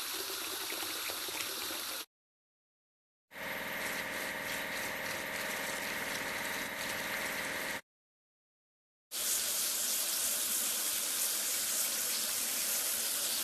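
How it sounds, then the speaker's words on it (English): Cartoonish water spraying over a tractor in a kids' vehicle game, a steady hissing gush that plays in three continuous bursts separated by short silences, with no talking. "Now we need to wash it clean."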